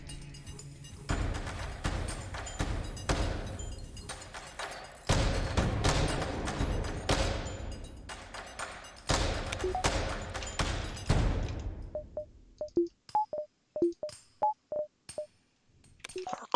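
Weapons fire and a missile impact in the spaceship strategy game FTL: a dense, loud barrage of blasts and thuds fills most of the stretch, then gives way to sparse beeps and short clanks.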